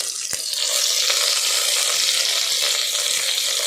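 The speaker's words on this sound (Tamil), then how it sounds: "வெங்காயம் சேர்த்துக்கலாம். வெங்காயம் நல்லா வதங்கட்டும்." Onions and curry leaves fry in hot oil for a hotel-style sambar, a dense, steady sizzle close up with a few sharp pops and crackles, no voices.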